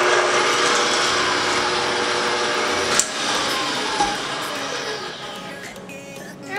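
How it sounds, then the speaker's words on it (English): A kitchen electric mixer beats butter for banana bread at medium speed, a loud steady whirring hum held throughout with a couple of brief knocks from the beaters against the bowl. "I'm just going to beat that on medium speed for about a minute"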